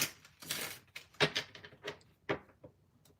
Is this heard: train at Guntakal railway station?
no